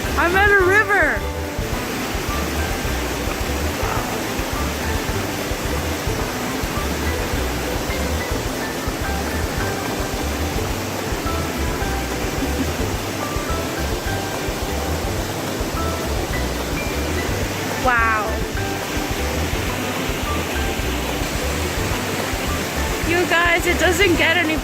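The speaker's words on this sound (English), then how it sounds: "I'm at a river." A river rushes steadily outdoors, a loud continuous broadband flow that fills the whole span, with a person's voice briefly audible over it at the start and near the end.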